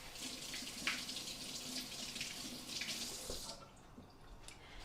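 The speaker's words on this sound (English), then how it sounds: "I need to wash my hands. So let me give a second for a hand wash." Hands washed under a running kitchen tap, a steady close hiss of flowing water with small splashes that stops near the end, leaving faint room tone.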